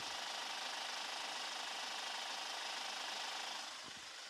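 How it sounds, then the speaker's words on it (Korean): A Kia Bongo 3 CRDI diesel truck engine idling loudly up close, heard through the opened passenger side, a dense, steady mechanical rattle and hum that dips slightly near the end. "이렇게 조수석으로 열어가지고 엔진 소리 한번 들려드릴게요."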